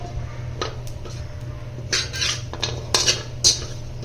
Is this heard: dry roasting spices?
yes